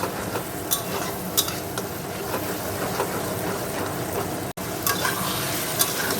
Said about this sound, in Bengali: মশলাটা দিয়ে দিয়েছি, নুন হলুদ মিষ্টি দিয়ে ভালো করে এবার কষিয়ে নেবো